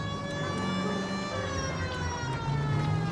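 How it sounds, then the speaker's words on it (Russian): Police car sirens wail steadily and loudly in L.A. Noire during a chase, with their rising and falling tones layered over a low engine rumble and no pauses. "Сирены воют."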